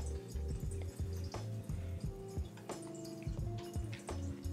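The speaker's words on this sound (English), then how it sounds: "Is that a water fountain?" A pet water fountain trickles and drips indoors in a quick, uneven patter of small liquid ticks, close and fairly quiet with no talking.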